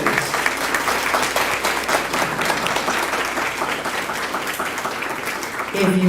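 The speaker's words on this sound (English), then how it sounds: "So give them a round of applause, please." A community meeting audience gives a sustained round of applause, dense and loud throughout, with some voices mixed in toward the end.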